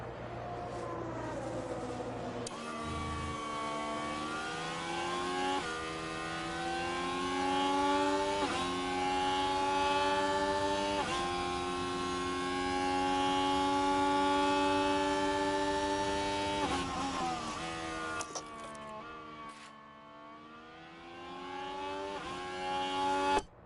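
Formula 1 race cars accelerating off the grid at the start in F1 Manager 24 at Catalunya, with a loud, sustained engine roar that climbs in pitch through repeated gear changes and fades near the end.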